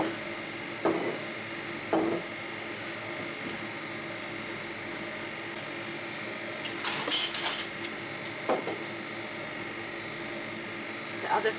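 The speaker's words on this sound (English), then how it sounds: "The other freeze dryer is still going on and the freezer is loud" A freeze dryer and a freezer run indoors as a steady, loud mechanical hum with a high whine, broken by a few faint knocks and clicks.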